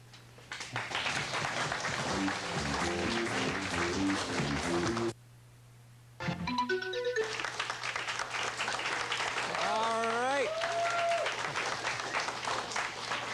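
A studio crowd at a 1987-88 Ontario provincial quiz quarterfinal applauds loudly, then breaks off abruptly into a second of silence before clapping resumes, with short musical tones and a sliding electronic sound over the applause.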